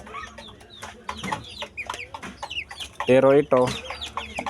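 A young rooster (stag) gives a string of short clucks, then a louder, harsher call near the end, recorded close up in a yard as someone speaks briefly.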